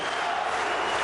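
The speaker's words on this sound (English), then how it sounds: "Well, just listen to the crowd in here." A loud, steady roar of a packed arena crowd cheering at a K-1 kickboxing slugfest, a dense continuous wash of voices with no pauses.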